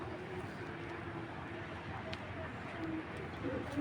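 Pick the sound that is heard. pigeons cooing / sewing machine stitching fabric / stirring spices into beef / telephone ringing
pigeons cooing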